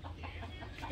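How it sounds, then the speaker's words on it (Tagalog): A neighbour's chickens cluck close by in a short burst of low, throaty calls over a steady background hum. "Ang daming chicken."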